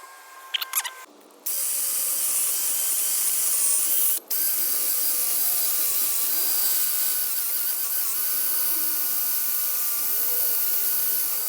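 A ratchet works steadily on large old brake caliper bolts, with a few sharp clicks at the start, then a continuous loud mechanical rasp that runs almost unbroken, pausing only briefly once.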